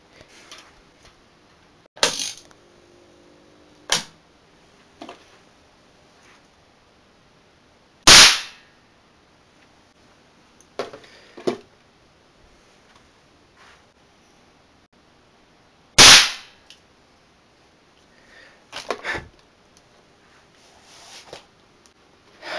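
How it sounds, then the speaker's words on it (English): LEDs popped by a defibrillator capacitor discharge make two sharp, loud bangs several seconds apart, with smaller clicks and handling noises in between. "Time to pop a LED or something."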